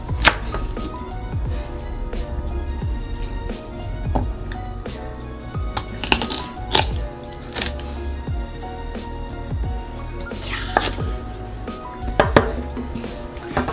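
A knife chopping asparagus on a board, making a series of close, irregular cutting thuds with light kitchen clatter between strokes and no talking.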